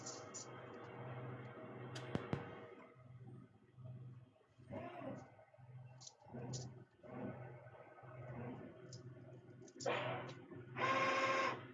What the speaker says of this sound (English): These new Epson printers are so nice.